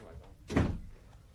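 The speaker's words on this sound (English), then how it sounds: "shut the door" A door is pushed shut with a single dull thunk, moderately close, in a quiet room with no talk over it.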